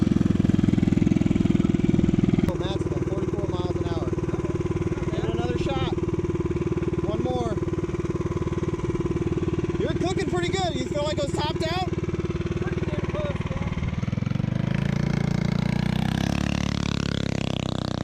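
The Predator 301 engine on a Coleman BT200X go-kart with a Mikuni 28mm flat-slide carburetor runs flat out, a sustained buzzing drone close by, shifting pitch near the end, while riders whoop and shout over it.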